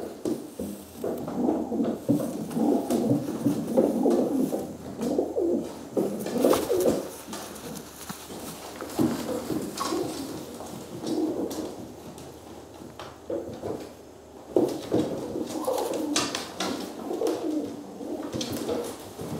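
Several young racing pigeons coo in soft, repeated, overlapping calls close by, with light fluttering and shuffling sounds between them.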